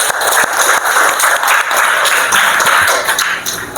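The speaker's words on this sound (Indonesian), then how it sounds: "Tepuk tangan dulu untuk kita semua." Classroom of students clapping hands together, a dense, steady burst of applause lasting the whole moment, loud and close with no talking over it.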